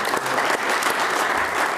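An audience at a county commissioners' meeting applauds, a dense, even wash of many hands clapping continuously and fairly loud throughout.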